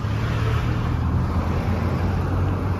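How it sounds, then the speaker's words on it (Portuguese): Large vehicles passing on a Brazilian federal highway, a loud, steady roar of traffic close by. "Desculpa o barulho, né? Vai ter bastante carro grande passando por aqui"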